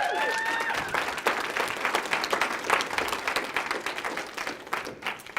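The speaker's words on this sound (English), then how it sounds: "Everybody give them a round of applause." An audience at a sales seminar applauds two people called up front, a dense burst of clapping from a moderate-sized crowd that holds steady and then thins slightly toward the end.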